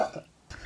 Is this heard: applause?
no